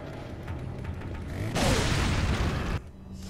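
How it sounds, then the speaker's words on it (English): A deep, rumbling grenade blast in the video game Resident Evil 4 swells over a second of muffled game noise and then cuts off abruptly. "Proceed to throw more grenades."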